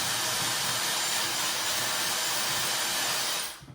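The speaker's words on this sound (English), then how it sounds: "you can just hit it a couple times with your blow dryer" A hair dryer blows steadily at close range with a loud, airy roar, then switches off at the very end.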